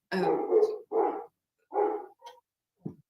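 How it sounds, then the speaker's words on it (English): Several short barks from a dog nearby, uneven and spaced apart, followed by a small yip, with silence in between. "sorry if you can hear my dogs."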